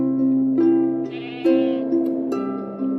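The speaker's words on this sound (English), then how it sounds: "Now go and fetch your bowl while Peter milks the goat." A goat bleats in a series of wavering, drawn-out calls, several in a row, clear and close with no talking.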